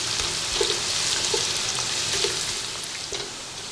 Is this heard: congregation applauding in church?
no